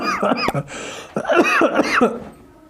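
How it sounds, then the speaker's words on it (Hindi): Several dry, harsh coughs from a dry-cough bout break through close by, mixed with a voice straining between them. "बहुत ज़्यादा ड्राई कफ है जिसकी वजह से खांसी आ रही है"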